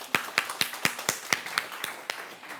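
Clapping for Victoria after her talk at an Occupy Library event comes as about a dozen distinct, evenly spaced claps, close and moderately loud, growing slightly softer toward the end.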